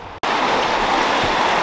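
A river rushes loudly and steadily around a person wading upstream through cold, knee-high water in Zion National Park, a dense continuous wash after a brief cut at the start.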